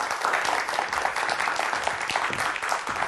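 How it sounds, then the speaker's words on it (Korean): Studio audience at a televised science talk show giving a guest a big round of applause, a continuous even wash of clapping at moderate level throughout. "KT 빅데이터 센터의 김희식 상무님을 큰 박수로 맞이해 주시기 바랍니다."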